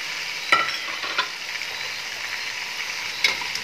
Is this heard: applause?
no